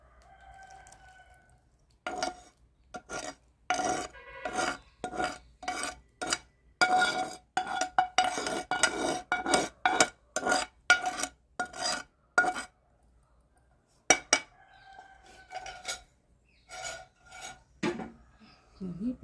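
Amla tomato pickle stirred together with its tempering in a wide bowl, giving a steady run of rhythmic, close scraping strokes with a short pause midway, while a rooster crows now and then in the background.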